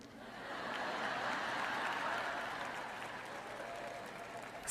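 An audience at a sermon applauds, giving a steady wash of clapping from many hands that swells and holds for several seconds before fading slightly, set at a moderate distance.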